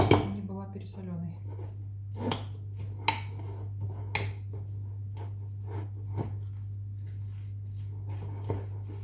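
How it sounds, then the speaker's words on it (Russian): Grated potato batter for draniki stirred in a bowl, with light scrapes and occasional sharp spoon clinks over a constant low electrical hum, and a brief voice at the start. "Так, а пока все перемешиваем."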